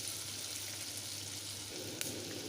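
Chopped onions and green chillies fry in hot oil in a pan for an egg pulav, a steady close sizzle with a faint clink near the end.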